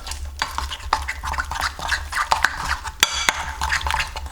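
Tempe mendoan batter being stirred in a bowl, a close, quick, irregular series of scraping and tapping strokes with a few sharp utensil clicks against the side.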